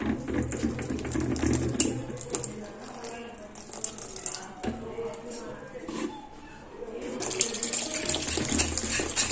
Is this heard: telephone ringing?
no